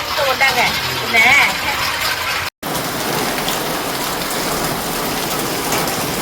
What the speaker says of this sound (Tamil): நல்ல மழை பெஞ்சுக்கிட்டு இருக்கு